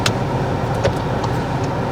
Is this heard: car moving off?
yes